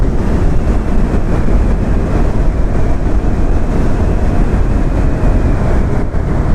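A Yamaha R15 V4 motorcycle rides in sixth gear near a bridge, a loud steady engine drone mixed with heavy rushing wind across the whole stretch, no talking.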